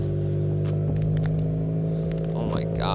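A turbocharged E85 Toyota FRS idles just after a cold start on an icy day, a steady low engine hum with a few clicks and a short rise in revs near the end.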